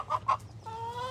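Chickens in a backyard chicken pen give a couple of quick clucks, then one drawn-out, tonal squawk. The sounds are close and clear over a low steady hum.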